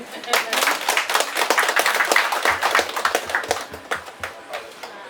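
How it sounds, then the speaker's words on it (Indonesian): A crowd claps in a sustained burst of applause at a focus group discussion in Juwana district, loud and close, with a voice speaking over the clapping. "Tepuk tangan."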